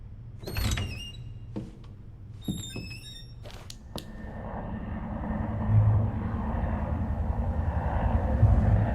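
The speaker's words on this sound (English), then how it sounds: "That's supposed to be a helicopter." Helicopter in the game Resident Evil 2 Remake, a rising steady engine drone that builds in loudness over several seconds after a few sharp door-like clunks and bright electronic chirps.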